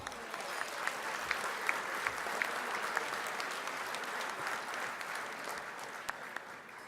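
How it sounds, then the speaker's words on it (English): Steady applause from a large crowd of attendees at a San Antonio CPS Energy 75th anniversary ceremony, dense and even throughout at moderate distance, with a few sharper claps standing out. "a big round of applause for all of you today"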